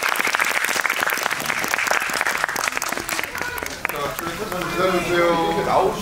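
Audience applause at a Korean film stage greeting for the movie Hidden Face, dense continuous clapping from a theater crowd that swells toward the end, with cheering voices mixed in.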